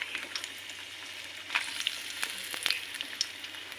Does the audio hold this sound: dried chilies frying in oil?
yes